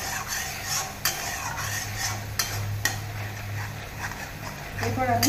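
A spoon scrapes and stirs a masala with coriander powder in a pan for shukto, soft repeated clinks and scrapes over a low hum while someone speaks briefly.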